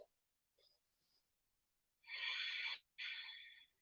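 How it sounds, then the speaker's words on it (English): Ujjayi yoga breathing with air pressed against the back of the throat, two loud breathy exhales through the nose, about a second each, close and alone after faint quiet breaths. "You can sometimes hear a little bit of a sound from that exhale."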